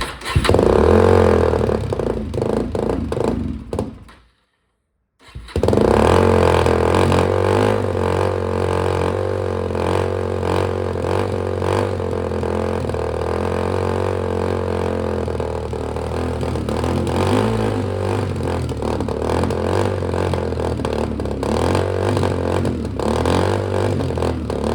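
Suzuki DRZ 400 dirt bike engine revving loudly and steadily at close range, with one brief drop to silence around five seconds before the rough, sustained engine note resumes.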